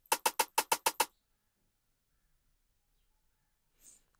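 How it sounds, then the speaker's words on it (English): A second snare layered into a club-style FL Studio beat fires seven quick, evenly spaced crisp hits in about one second, then stops, leaving near silence with only a faint hiss near the end. "so I added another snare which sounds like this"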